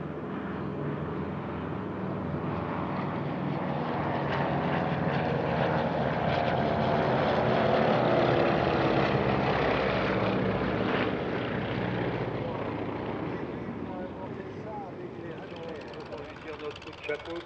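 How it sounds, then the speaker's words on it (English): A DC-3 and Beech 18 propeller aircraft fly a tunnel manoeuvre at the Air Legend airshow at Paris-Villaroche, a continuous droning engine roar that swells and fades under a commentator's voice. "a DC-3 flying through an inverted V-shape created by the Beech 18s"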